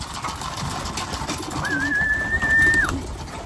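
Pigeons coo in a breeder's loft, a soft low cooing under steady background noise with one sustained higher whistle-like tone partway through; no talking.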